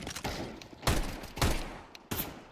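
Gunfire from a weapon in Counter-Strike 2, three or four sharp, punchy shots in close succession with short gaps between them, loud and near, with faint game background sound and no talk.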